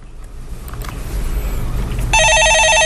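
Following some quiet background movement, a telephone begins ringing with an incoming call, a loud electronic trilling tone that starts abruptly near the end and holds steady.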